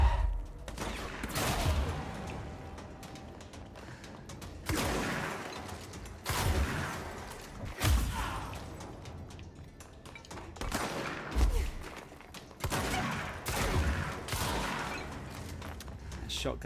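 Shotgun blasts in the video game Control, five or six heavy booms spaced a couple of seconds apart, each with a loud low thump and decaying tail over a busy background of game noise.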